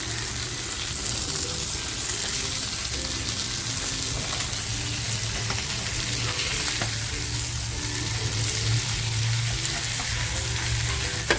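Pomfret stuffed with bombil fries on a low flame, giving a steady, dense sizzle throughout with occasional faint pan clinks.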